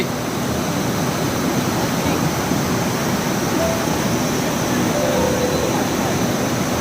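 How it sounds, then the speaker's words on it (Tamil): The flooded upper part of Thirupparappu falls gives a loud, constant, broadband roar of rushing water that fills the whole stretch without pause. "திருப்பரப்பு அருவியின் மேல் பகுதி காட்சி"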